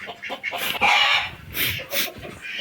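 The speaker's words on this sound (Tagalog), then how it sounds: "ipapakita ko po sa inyo yung nag-iisang sisiyo na nasa brooder" A lone young bird, hatched under a hen, peeps and chirps in short bursts from a brooder, close and clear with no talk over it.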